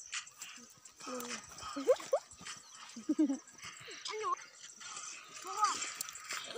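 A dog whimpers and yelps in high, wavering cries, mixed with brief barks against a noisy outdoor background, with people talking faintly.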